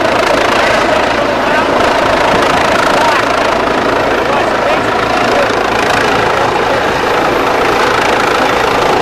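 Medical center–sponsored helicopter at a small airport, its engine idling with a loud, continuous turbine whine and low rumble throughout, steady and close.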